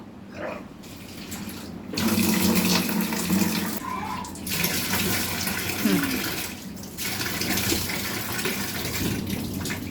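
Water running from a tap while a face is washed, a steady splashing flow that surges and dips with brief pauses and close wet rubbing.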